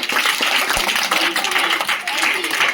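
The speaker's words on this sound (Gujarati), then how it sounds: "લગાવો તાળી." Schoolchildren applaud during a quiz contest at a government primary school, a continuous crowd of clapping hands filling the room, with speech mixed in over the noise.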